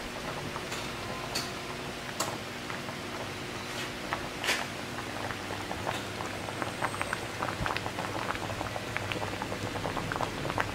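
Crab and pineapple simmer in a wok, a steady bubbling hiss with scattered small pops and ticks throughout, close and moderately quiet, with no voices.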